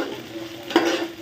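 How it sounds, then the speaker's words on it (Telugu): Ginger garlic paste fries in a pan for a prawn curry, giving a brief, steady sizzle with one sharp stir or scrape near the end, close by and with no talking. "అల్లం వెల్లుల్లి పేస్ట్ వేసుకొని వేయించుకున్నాను"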